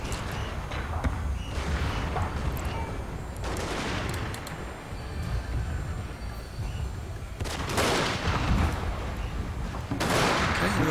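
Volleys of gunfire from gun towers in the Total War: Shogun 2 Fall of the Samurai strategy game, with bursts of crackling musket fire coming in waves over continuous battlefield noise.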